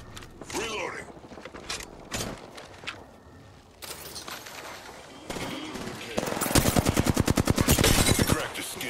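Rapid automatic gunfire bursts from an Apex Legends match, loud and close, with sharp mechanical clicks and a sustained fusillade near the end, over a game voice line.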